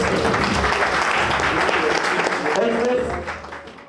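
A crowd at a forex trading tour event in Tamale breaks into loud, sustained applause with voices mixed in, holding strong before tapering off near the end.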